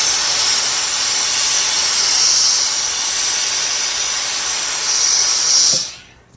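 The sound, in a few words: steam iron steaming fabric sleeve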